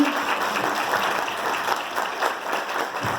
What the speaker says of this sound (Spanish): Muchas gracias a todos, un aplauso.